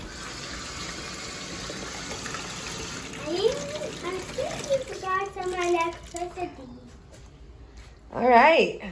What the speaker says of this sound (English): There's a big leak.